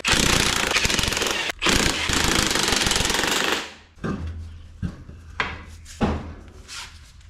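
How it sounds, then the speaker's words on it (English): An impact wrench rattles loudly and continuously for several seconds while a car wheel is being removed. Scattered knocks and clunks of the wheel and parts being handled follow, and nobody speaks. "Let's take this wheel off so we can get to this wheel seal."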